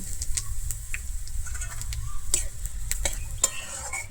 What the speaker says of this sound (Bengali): আমার সমস্ত মশলাটা কিন্তু এখানে খুব ভালোভাবে ভাজা হয়ে গেছে